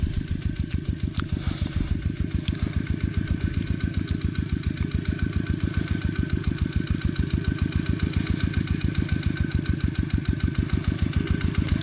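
A farm tractor engine runs in a flooded rice field, chugging in a fast, even, single-cylinder rhythm close by, loud and steady throughout with no talk.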